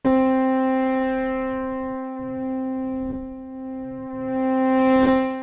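A steady, buzzy synth note whose brightness slowly dips and then opens back up, a smooth low-pass filter cutoff sweep with resonance turned down, without any whistling resonant peak.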